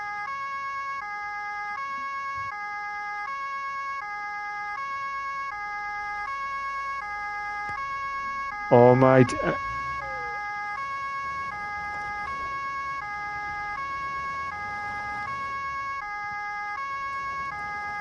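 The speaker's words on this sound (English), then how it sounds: "let's stop the siren a sec." A police car siren in a video game wails continuously with a stepped, looping electronic pattern, joined midway by a brief burst of a startled voice.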